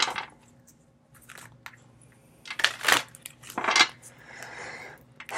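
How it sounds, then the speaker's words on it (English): Playing cards being shuffled at close range, soft riffling and crisp bursts of card noise in a quiet room, with no talk. "A couple more shuffles."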